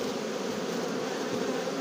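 Honeybees swarm and buzz around an opened hive during beekeeping work, a dense steady drone close by with no talking.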